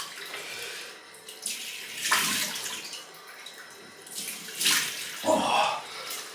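Water runs from a tap in uneven bursts, swelling and easing several times, close by with no talking.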